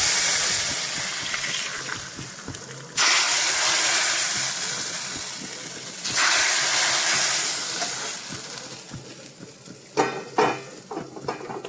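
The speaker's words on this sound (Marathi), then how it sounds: "आता ही फोडणी ही फोडणी आपल्याला या सांबारावरती ओतायची आहे." Hot tempering for authentic Mangalore-Udupi style sambar, poured over the pot, gives loud bursts of sizzling and hissing that swell at the start and again midway, then fade into softer crackles and a few sharp clinks near the end.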